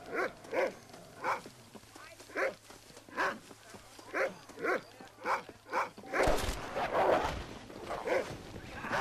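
A dog in the Western video game Red Dead Redemption barks repeatedly in a steady rhythm, about a dozen sharp mid-range barks. Rougher game noise then swells up and masks the later barking.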